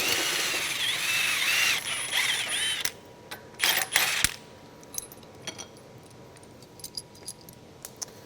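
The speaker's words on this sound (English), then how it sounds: "So we're just going to use this handy impact to remove that screw quickly." An impact wrench backs out a six-inch compression bolt on a MacNeil RS-1000 car wash top brush, with a loud whirring buzz for about three seconds, then short rattling bursts and scattered metallic clicks and clinks nearby.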